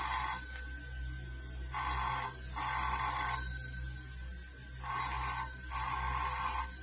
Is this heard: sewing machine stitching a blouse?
no